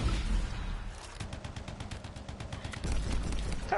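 Turret gunfire in the video game Anthem, a rapid string of sharp bursts that swells, thins out in the middle, then picks up again, with no talking over it.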